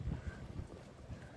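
Water rushes and swishes along the hull of a 34-foot Citation sailboat moving briskly, a low, steady wash mixed with wind buffeting the microphone, faint and continuous with no voices.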